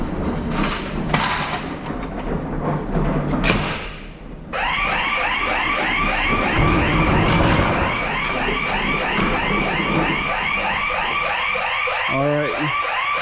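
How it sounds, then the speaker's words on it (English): Building alarm sounding in a cyclic warbling electronic tone that starts abruptly after some thumps and keeps repeating steadily, loud and echoing in the space, with people talking under it. "We'll wait on that alarm to go off, or to stop going off."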